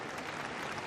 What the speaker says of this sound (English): There was this very polite, very discreet clapping